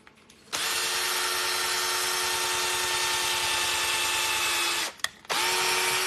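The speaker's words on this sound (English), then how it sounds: "So I'm just going to drill a hole in that right there." A power drill whirs steadily while drilling a hole in a part for a sugar glider toy, running loud and close for about four seconds, cutting out briefly with a short burst, then starting up again.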